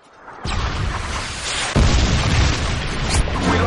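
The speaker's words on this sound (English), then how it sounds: "Friendly Predator missile inbound" A Predator missile strike in a Call of Duty-style shooter sets off a loud, roaring explosion, then a second heavier blast hits and its rumble carries on to the end.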